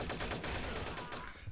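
Gunfire from a weapon in a German-language multiplayer shooter, a quick run of loud close shots that decays into a fading tail, with no voices over it.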